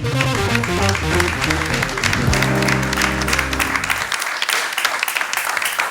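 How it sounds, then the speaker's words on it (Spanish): Falkland Islanders applaud Prince William's visit, a dense wash of clapping from a crowd that holds steady throughout, with music-like tones underneath for the first few seconds before fading. "Los kelpers aplauden la visita del príncipe."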